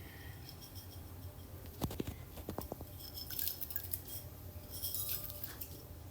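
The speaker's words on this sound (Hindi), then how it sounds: "मैंने इसमें 2 चम्मच कॉफ़ी डाल दी है।" Two spoonfuls of coffee going into boiled milk, heard as a cluster of light metallic spoon clinks and taps against a cup, close and fairly quiet, with a soft background hiss.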